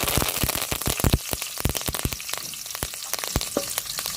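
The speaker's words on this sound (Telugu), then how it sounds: "ఇంకా కరివేపాకు కూడా వేగేదనమాట" Curry leaves, mustard seeds and cumin crackle and spit in hot oil for a tomato coriander chutney, a dense close sizzle peppered with sharp popping bursts throughout.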